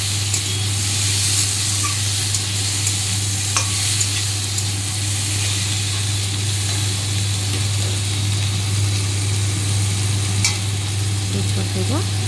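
Spiced potatoes are stirred in a hot frying pan, a continuous sizzle and hiss with faint scraping strokes of the spoon, close and steady, over a low constant hum.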